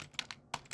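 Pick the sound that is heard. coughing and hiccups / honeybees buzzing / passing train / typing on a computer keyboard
typing on a computer keyboard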